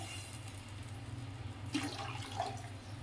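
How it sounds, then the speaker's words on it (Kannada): Water is poured into a boiling fish curry, a faint, brief splash and trickle rising over a low steady hum in a quiet kitchen. "ಒಂದು ಸ್ವಲ್ಪ ನೀರು ಹಾಕ್ತೀವಿ"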